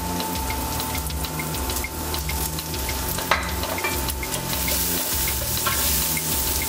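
Butter sizzles in a pan for osso buco, a steady close frying hiss with a faint constant tone and occasional light clinks and pops, no voices.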